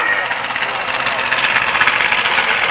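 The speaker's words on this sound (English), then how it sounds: "481 cubic inches of big block Chevrolet, and this is a Rodeck, so that's an aluminum big block Chevrolet here on tower side" An aluminum Rodeck 481-cubic-inch big block Chevrolet dragster engine idling at a drag strip, a loud, steady, rough rumble with a hissy, rattling texture that continues unbroken.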